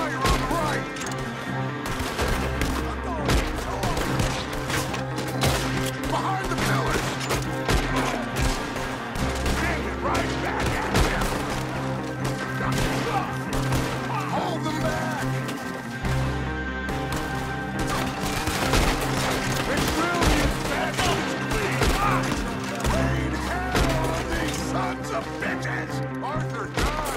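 Gunfire in Red Dead Redemption 2, with dense overlapping shots, rapid volleys and loud cracks throughout a chaotic firefight, with voices shouting amid the noise.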